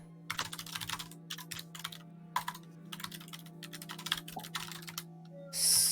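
Computer keyboard typing in a quiet room: rapid clusters of light clicks and clacks in bursts separated by short pauses, close and moderately loud over a steady low electrical hum, ending with a brief louder rushing burst.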